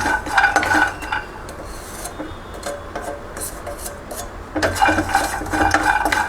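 Almonds roasting in a little oil in a pan, heard as scraping and rasping stirring strokes against the metal, louder bursts of clattering at the start and end around a softer, steady middle.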